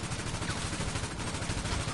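Gunfire in the GTA 5 Online game during a Pacific Standard hide-and-seek match, a dense, steady burst of rapid shots filling the short clip at moderate loudness.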